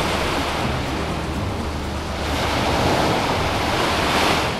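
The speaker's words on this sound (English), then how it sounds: "That is the sound of the waves here on the famous beach at Waikiki." Ocean waves wash continuously onto the beach at Waikiki, Hawaii, a dense, loud roar of surf with wind rushing across the microphone and no voices.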